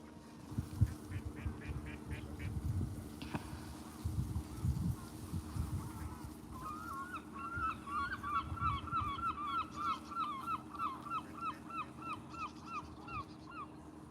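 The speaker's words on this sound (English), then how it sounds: "Noisy gulls." Noisy gulls call repeatedly over a low rumbling background on the River Thurne at Repps Staithe, Norfolk Broads, the harsh cries growing into a steady rhythmic series in the second half.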